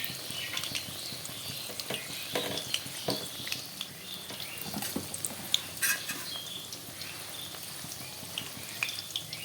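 Mustard flower pakoras fry in a pan with a steady, close sizzle, broken by scattered clicks and scrapes of a ladle pressing and stirring the batter.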